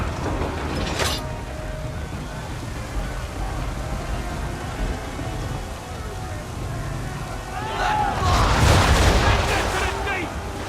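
Ship cannon fire in the video game Assassin's Creed 3, heavy booms with a sharp crack near the start and a bigger roaring blast near the end, over a busy background of creaking and clatter.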